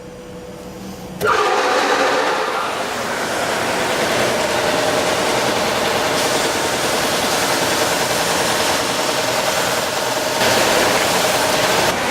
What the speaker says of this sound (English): Now run all 3 pieces through the wide belt sander once on each side.